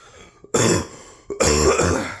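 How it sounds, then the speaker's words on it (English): Two harsh throat-clearing coughs, close and loud, separated by a short pause. "I'm gonna be coughing a lot through this."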